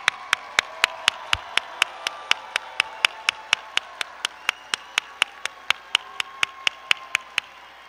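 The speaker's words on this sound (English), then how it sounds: "I want all of us in this room to stand up and give these stars a great round of applause." Room of people standing to applaud teachers and principals at an awards evening, one nearby pair of hands striking sharp, evenly spaced claps over a softer crowd wash.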